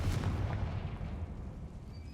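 A Confringo blasting spell explodes in Hogwarts Legacy, a deep booming blast at the start that rumbles and fades into a low, quiet tail.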